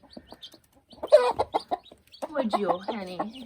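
A mother hen sitting on freshly hatched chicks on a farm clucks softly in short bursts, mixed with a person talking gently to her.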